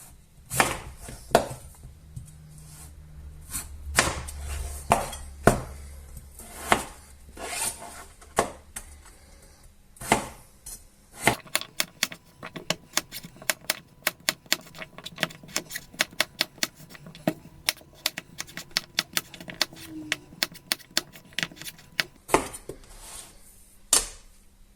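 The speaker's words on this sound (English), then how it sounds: "I will cube these potatoes up." Large potatoes being cut into cubes with a knife on a cutting board, sharp repeated knocks of the blade, sparse at first and then a rapid, steady run of close, crisp chops with no talking.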